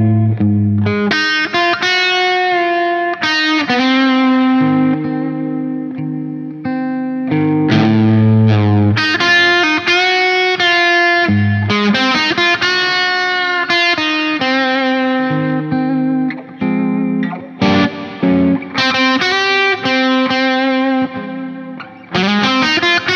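Electric guitar with distortion and chorus effects playing a bluesy melody, sustained bent notes and phrases ringing loud and close with short pauses between lines.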